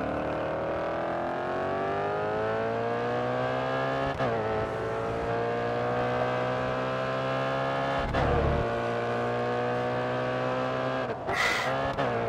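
An Audi RS 5 race car's engine in GRID Autosport, in a street race at Autódromo do Algarve, revs loud and close, its pitch climbing through repeated gear shifts with brief dips between pulls.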